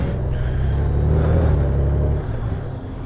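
A motorcycle with a DCT gearbox cruises in econ mode, caught from a helmet-mounted GoPro 8 as a loud, steady engine rumble with wind noise that eases slightly near the end.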